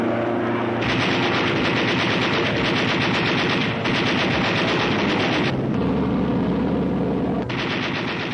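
Sustained machine gun fire from WWII Pacific wartime footage of strafing attacks on industrial plants, dense continuous rapid bursts, loud and close, with brief breaks between long volleys.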